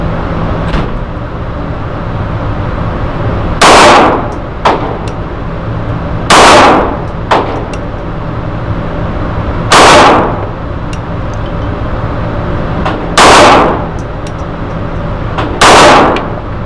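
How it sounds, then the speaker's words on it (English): A Sig P230 .380 pistol fires PMC ammunition at an indoor range, five loud, sharp reports spaced a few seconds apart over a steady ventilation hum, with fainter pops from other shooters in between. "we're going to try the Sig 230 at 23 yards here at Magnum"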